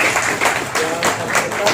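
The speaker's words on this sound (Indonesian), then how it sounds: "Tepuk tangan buat Pak Junaidi" Applause for an official at a Siak regency ambulance handover ceremony, a dense steady patter of many hands clapping from a crowd, fairly loud and sustained with no pause.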